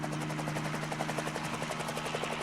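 A military helicopter flies overhead during the Algerian War, its rotor thumping in a fast, steady rhythm over a constant engine drone, loud and unbroken with no voices.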